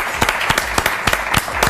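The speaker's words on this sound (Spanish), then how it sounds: "Un aplauso." Audience applause rings out as a short burst of loud, crisp claps from a modest group, the individual hand claps distinct and close, with no talking over them.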